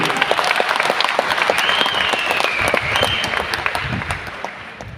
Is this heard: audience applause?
yes